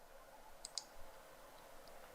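A computer mouse clicks twice in quick succession, faint and close, with a soft click later against quiet room tone.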